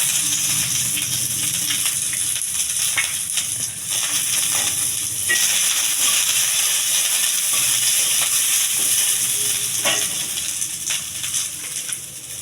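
Curry leaves and tempering spices crackle in hot oil in a pan while ridge gourd is cooked: a loud, steady sizzle and hiss that fills the whole stretch with no talking.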